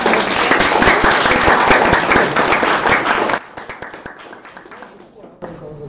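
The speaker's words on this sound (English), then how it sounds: "First of all, we need an applause" Audience applause at a guest lecture, loud dense clapping for about three seconds, then it thins to scattered claps and fades.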